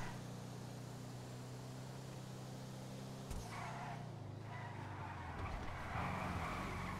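A car drifts and skids during a game race, its engine droning steadily with tire noise swelling into a broad skidding hiss partway through, loud and continuous with no talk.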